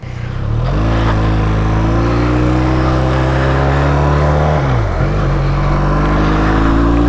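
A Harley-Davidson X350 motorcycle ridden at steady speed, its engine droning loud and close with rising and falling revs, a brief dip as it shifts, under constant wind rush.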